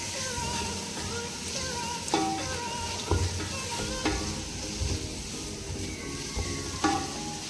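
Chicken biryani masala sautés with biryani powder and ground pepper, giving a steady close sizzle broken by regular spatula scrapes and taps against the pan.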